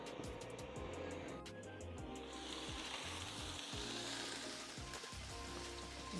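Steady, loud sizzling of short ribs on a Ninja Foodi XL electric grill, a continuous crackle and hiss with no talking.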